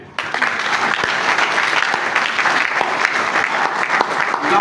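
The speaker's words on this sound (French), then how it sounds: "Vous pouvez l'applaudir, s'il vous plaît." A room full of people claps steadily, loud continuous applause lasting several seconds.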